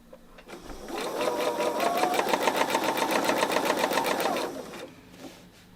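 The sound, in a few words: sewing machine stitching fabric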